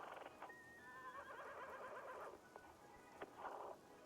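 A horse neighs in Wanderstop, a wavering whinny that rises and trails off, followed by a shorter second call, heard at moderate distance over faint background ambience.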